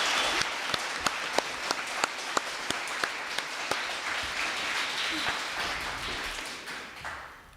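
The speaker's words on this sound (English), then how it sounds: "let's give our panel and speakers a big round of applause for an excellent job" Applause from the audience for a panel and speakers at an author presentation on policing and white supremacy: sustained clapping from many hands, steady and moderately loud, with a few sharper claps standing out, tapering off toward the end.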